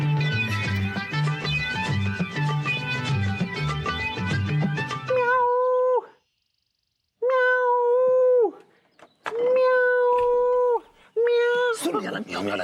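A man imitating a dog's bark and whimper, giving several drawn-out yelping cries with short pauses between them, loud and close, after a stretch of busy background sound.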